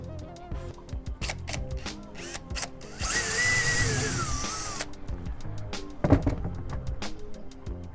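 A power drill bores a hole into an upper cabinet inside a 1971 VW Bus high-roof camper, whining steadily for a couple of seconds amid nearby knocks and handling clatter.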